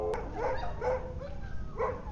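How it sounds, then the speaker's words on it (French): A few dogs barking in short, spaced bursts with some whining yips between them, heard from a moderate distance. "Mais pourquoi ils aboient comme ça, là?"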